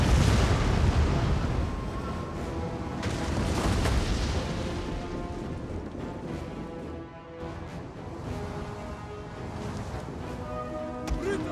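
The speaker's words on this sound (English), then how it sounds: "this ballista unit to fire explosive rounds at their archers" A ballista firing explosive rounds at archers in a Total War: Rome 2 battle, with dense rumbling booms and blasts layered over continuous battlefield din, with talk mixed in.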